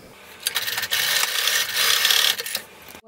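A sewing machine stitches a seam on a child's robe in one steady whirring, buzzing run of a couple of seconds, starting and stopping with brief mechanical clicks.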